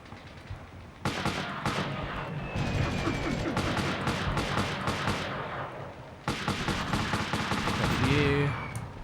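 Mortar and gunfire in the PlayStation war game Army Men: Land Sea Air, dense rapid bursts of shots and thuds in long volleys, loud and close, pausing briefly before another heavy barrage.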